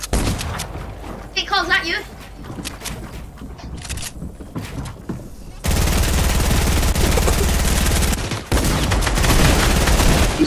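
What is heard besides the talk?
gunfire in the Fortnite video game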